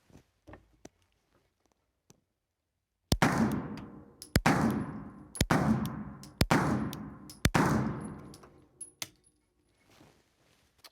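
A Rock Island STK100 9mm pistol fires at an indoor range: five sharp, loud shots in an uneven sequence, each with a ringing decay, then a pause and small metallic clicks and handling noise.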